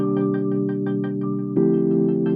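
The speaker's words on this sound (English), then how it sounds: "So what you can do is add some rhythm using an LFO like this." A sustained synth pad chord in Ableton with a rhythmic volume LFO gives a steady pulsing throb, then moves to another chord partway through, heard alone with no talk.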